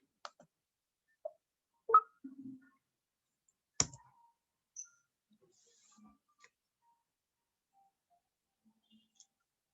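Sparse computer mouse clicks, a handful of crisp isolated taps spread unevenly across near silence, close by and quiet.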